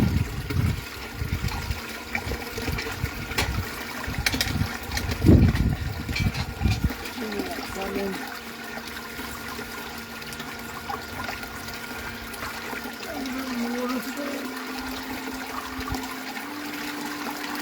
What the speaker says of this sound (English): Don't know how noisy the old bilge pump is either.